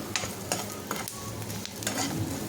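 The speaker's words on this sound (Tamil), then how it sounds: "நல்லா ஓரளவு வதங்கி வந்துடணும் கடலைப்பருப்பெல்லாம் நல்லா வந்து ப்ரௌனிஷ் ஆகி வந்ததும்" Chana dal sautéing in a pan for a beetroot poriyal, giving a steady close sizzle and frying hiss with a few scraping stir strokes, no voices.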